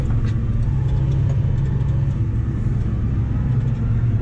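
A tractor ploughing the headland of a field, its engine a steady, loud, low rumbling drone heard close from the cab, unbroken throughout with no talking.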